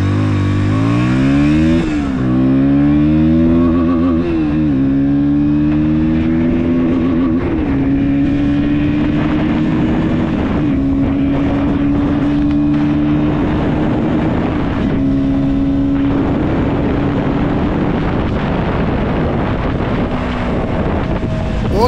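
A KTM Duke 160 motorcycle accelerating hard during a pickup test, the engine note climbing and dropping through several quick gear shifts, then pulling steadily at high revs, loud and close with heavy wind rush.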